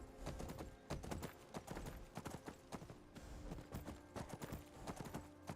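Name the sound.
horse galloping in video game Skyrim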